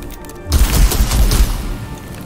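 A double fire attack in Warhammer 40,000: Mechanicus erupts into a loud burst of rapid gunfire and booming blasts after a short quiet lead-in, rattling on for the rest of the moment.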